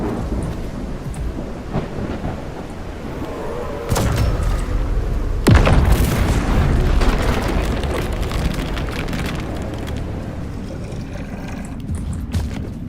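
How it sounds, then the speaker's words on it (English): A thunderstorm in the biopunk roguelike game CRETE, with steady rain and a sudden loud crack of thunder that rolls into a long, deep rumble, then settles back into the rain. "That's a crazy storm."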